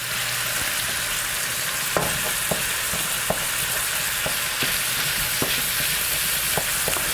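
Ground beef browns in a sprayed pan for chili, giving an even, close sizzle with occasional light taps and scrapes as it is stirred, and no talking.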